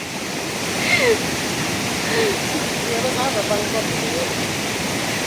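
Steady rushing water fills the scene, a broad wash of splashing flow from small falls, with faint voices or calls drifting over it.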